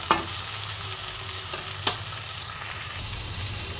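Fish curry with tomato being stirred in a frying pan, a quiet steady sizzle with a few soft scrape-taps of the spatula, close and without voices.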